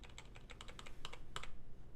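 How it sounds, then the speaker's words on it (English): Computer keyboard keys pressed while working in the Reaper audio editor, a quick series of about a dozen light clicks, close but quiet, with no voices. "Now, I programmed a hotkey to do this. It does it all with just one keystroke."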